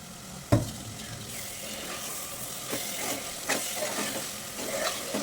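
A spoon stirs paneer masala curry in a hot pan, with a steady sizzle and hiss, one sharp clank near the start and several softer scrapes of the utensil.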